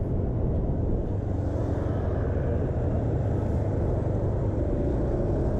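A Honda PCX 160 scooter engine accelerates in a steady, continuous low rumble with broadband road and wind noise, close and loud throughout, no talking.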